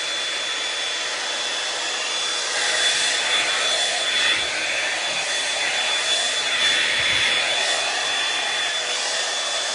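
Hair dryer blowing hair out over a round brush, a loud steady close-up whoosh with slight swells as the airflow moves, continuous and alone without speech.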